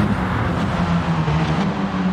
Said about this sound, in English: So you can see I'm really, really letting it rev out there.